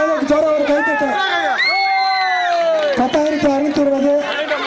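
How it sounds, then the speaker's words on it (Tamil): A crowd at a village Pongal festival of games and cultural events cheers and shouts, with high whoops and sustained voiced calls rising over one another loudly and close by. "அவருக்காக ஜோர ஒரு கைத்தட்ட"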